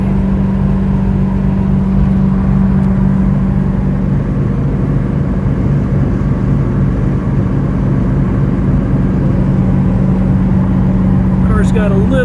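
A 1969 Corvette cruising at about 60 mph on a test drive, its steady engine drone and road noise holding constant and loud throughout, with no change in pace.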